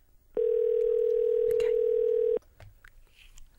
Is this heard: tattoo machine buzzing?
no